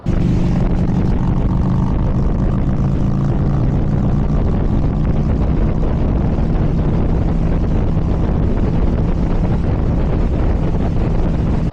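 A 2024 Harley-Davidson Street Glide with the Milwaukee-Eight engine pulls steadily in sixth gear downhill, its low rumble continuous and loud under heavy wind buffeting on the microphone, with no talk.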